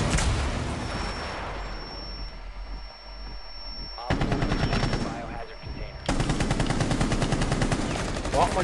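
Sustained automatic weapon fire in Rainbow Six Siege, loud and close, coming in long rattling bursts with short gaps between them over a thin whine.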